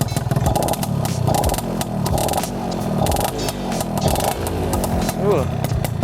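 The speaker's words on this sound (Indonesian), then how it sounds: "Kita tes kalau ditarik gimana suaranya." A Yamaha Alfa II R two-stroke motorcycle revs up repeatedly in sharp bursts, its raspy exhaust rising and falling, loud and close with brief talk mixed in.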